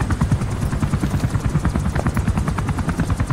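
Helicopter in the video game Metal Gear Solid 5 gives a steady, loud rotor chop with rapid rhythmic thumping and a continuous engine whine, running without pause and with no talk over it.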